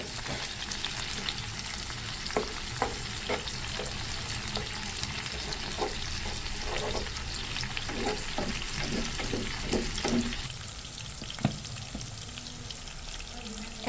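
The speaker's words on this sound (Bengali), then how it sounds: "দেখতে পাচ্ছেন পেঁয়াজ আর টমেটোটা একটু ফ্রাই হয়ে এসেছে" Onions and tomatoes frying in a pan for a tuna fish curry, a soft continuous sizzle with scattered stirring taps and scrapes, fairly quiet and close.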